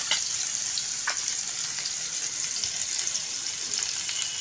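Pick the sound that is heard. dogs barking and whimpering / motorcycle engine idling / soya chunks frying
soya chunks frying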